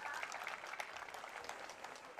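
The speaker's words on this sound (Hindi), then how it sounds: "जोरदार तालियों के साथ।" Audience clapping at a Swachh Bharat Abhiyan peace march programme, a steady dense patter of many hands continuing throughout, fairly faint and distant-sounding.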